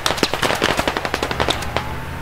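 Rapid machine gun bursts in the tactical shooter game Squad, a dense string of sharp cracks with short gaps, loud and close, with no talking over them.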